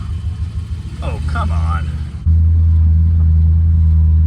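A 1976 Dodge Coronet CHP police car with a 440 engine cranks and catches, then settles into a loud, steady, close idle, with a man's brief exclamation during the cranking.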